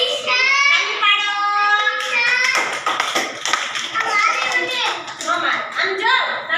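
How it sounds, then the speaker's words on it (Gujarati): Children clap their hands in a quick, uneven burst alongside a voice and an adult's speech, during a vehicle-themed picture activity for young kids aged about three to six. "તાળી પાડો."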